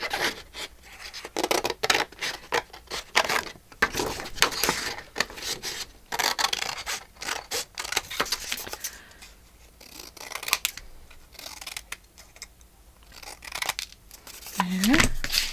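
Scissors cut through scrapbook paper in repeated close, crisp snips and rustling strokes, with speech at moments.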